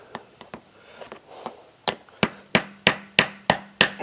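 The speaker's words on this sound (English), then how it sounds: "so I got me a hammer. See if maybe that'll help get this thing down in there." A hammer strikes sharply again and again on a tire repair plug in a nail puncture, the blows growing louder and more regular toward the end, with a faint hum underneath.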